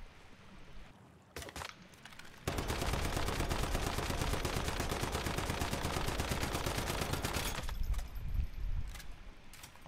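A SCAR rifle in the video game Once Human empties its magazine in one rapid, evenly paced full-auto burst lasting about six seconds, loud and close, with a few isolated clicks and shots before and after.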